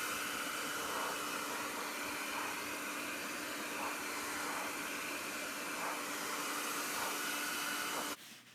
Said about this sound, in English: we just want to keep the hair dryer moving at all times